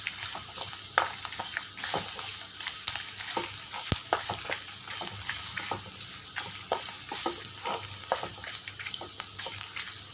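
Pepper, garlic and cumin sautéing in a pan for rasam, with a steady sizzle broken by frequent sharp stirring scrapes and clicks, close and fairly loud with no talk.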